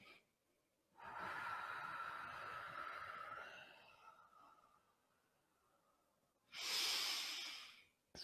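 Slow yoga breathing done while moving the spine in a pose: a long, steady, close breath lasting several seconds, a quiet pause, then a sharper, louder breath, with no talking.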